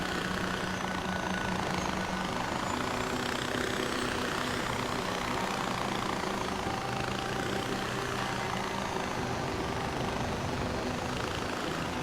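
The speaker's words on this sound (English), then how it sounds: "Cause yeah, we have a mini helicopter," Mini helicopter engine in the video game Far Cry 4, a dense, continuous rotor and engine drone that stays steady and close throughout with no breaks and no talk.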